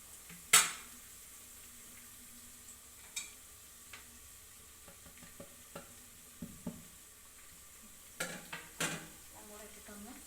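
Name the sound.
spices frying in pan for egg biryani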